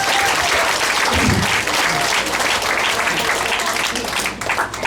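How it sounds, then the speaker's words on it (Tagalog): Loud, sustained applause from a seminar audience fills the whole stretch, dense and steady with a slight dip near the end. "sobrang lakas sa palakpak"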